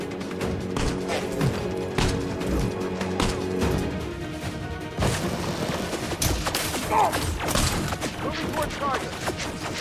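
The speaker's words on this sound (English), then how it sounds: "I think they're just going to stand there and let me shoot them." Ship weapons on an Imperial Corsair firing at enemy targets during bounty hunting in the space game Elite Dangerous: dense, rapid bursts of shots and impacts that keep going for the whole stretch, loud and close.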